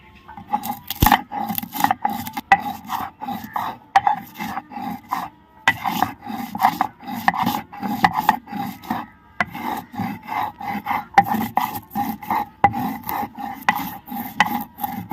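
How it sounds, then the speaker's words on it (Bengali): Whole spices, cinnamon, cloves and cardamom, are ground on a stone for a chicken handi, a close, rhythmic scraping and rubbing in repeated strokes with brief pauses between bursts. "মশলা দারচিনি লবঙ্গ এলাচ এগুলো আমি এখন বেটে নিব"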